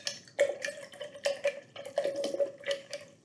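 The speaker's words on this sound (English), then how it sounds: "you can wash your brush." Paintbrush being washed in a water jar, close little swishes and clinks of bristles and glass in short bursts, with faint watery drips between them.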